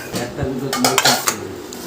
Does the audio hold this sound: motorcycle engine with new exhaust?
no